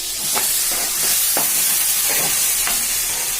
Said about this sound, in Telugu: సిమ్లోనే పెట్టుకొని వేయించుకోండి